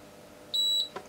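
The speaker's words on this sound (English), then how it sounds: "Wait for it to beep." An Agilent E3646A power supply gives one short, clear electronic beep as it starts up in calibration mode, followed by a faint click in a quiet room.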